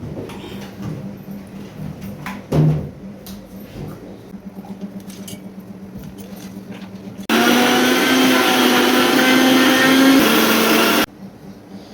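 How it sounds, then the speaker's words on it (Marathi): A mixer grinder whirs loudly, pulsing onion into a paste for egg masala, a steady dense roar lasting several seconds after quieter kitchen clatter, then cutting off abruptly. "आता आपण कांदा मिक्सरमधून काढून घेणार आहोत"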